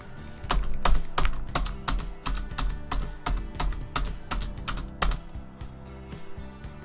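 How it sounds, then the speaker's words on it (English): A computer keyboard's Enter key is struck over and over, about a dozen crisp, evenly spaced clicks close to the mic, with no voices. "Hit the Enter key 14 times to lower the insertion point to the middle of the page."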